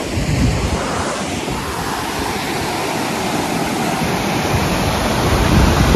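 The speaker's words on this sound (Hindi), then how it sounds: "जिस्पा में हमें मिल गया है एक मस्त वाटरफॉल" Waterfall at Jispa with clear water pouring down, a loud, steady, close roar of broadband rushing noise that holds for the whole stretch with no voices.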